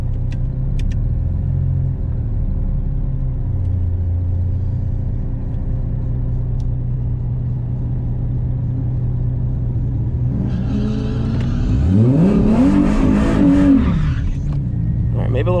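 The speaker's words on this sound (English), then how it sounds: "So we're re-racing that Trans Am again." A Mercedes SLK32 AMG drag racing a Trans Am at Orlando Cars and Coffee, with a steady loud engine drone from inside the car that rises into a hard revving acceleration near the end, over wind and road rumble.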